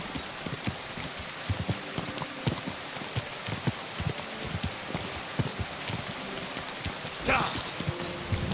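Steady rain hisses across an outdoor scene in Kingdom Come: Deliverance II, a constant wash of drops under scattered hoof clops and thuds, with a brief brighter splash near the end.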